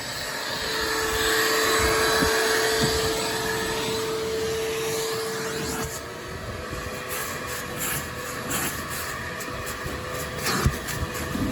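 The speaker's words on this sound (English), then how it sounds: "Grab the vacuum real quick here." A vacuum cleaner runs loudly and continuously on the carpet inside a Jeep Liberty, its motor whine shifting pitch partway through as the nozzle moves, with no talking.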